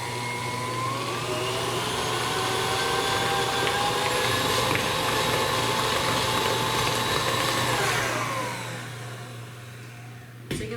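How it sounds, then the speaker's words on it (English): Stand mixer fitted with a paddle beats orange frosting at rising speed, giving a loud, steady motor whine that drops off near the end, with a brief clatter at the finish. "you can start to turn up your speed more until it starts to come off of that paddle"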